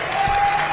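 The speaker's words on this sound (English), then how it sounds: "Big applause there." Brief burst of crowd applause at a coach's hall of fame induction, loud and dense clapping lasting under a second.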